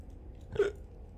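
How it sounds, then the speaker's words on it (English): A single short hiccup from a man playing World of Warcraft Burning Crusade Classic, a quick faint gulp in a quiet room. "Oh god, hiccups. Why am I hiccuping so much today,"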